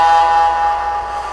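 A loud, sustained model train air horn blast with a long echo effect trailing it, the tone holding steady and slowly fading away.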